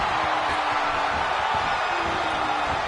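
A dense arena crowd roars steadily at a WWE 2K17 Royal Rumble match, a continuous wash of cheering and whooping that holds at an even, fairly loud level throughout.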